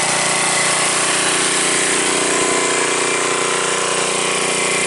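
A 5,000-watt petrol generator runs close by, giving a loud, steady, unbroken engine drone with a dense buzzing hum and no pauses or voices.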